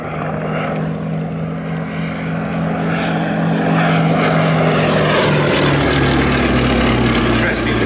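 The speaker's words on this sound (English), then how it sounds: "Interesting to contrast the sound of that 870 horsepower Bristol Mercury 9 cylinder engine" A Westland Lysander's 870-horsepower Bristol Mercury nine-cylinder radial engine drones at an evening airshow, its propeller roar steady and strong, swelling nearer toward the end, while a commentator talks over it.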